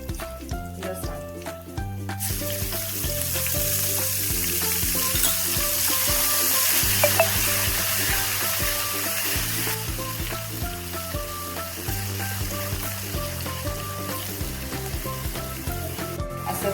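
Asafoetida, turmeric, ginger, chillies and garlic sautéing in a pan for a corn and paneer sabji, a steady loud sizzle that swells after the first couple of seconds, with light stirring scrapes under background music.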